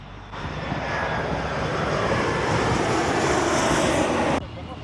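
A jet airliner landing at Los Angeles International Airport passes close by with a loud, steady broadband roar that builds and then cuts off abruptly, and there is faint traffic noise underneath.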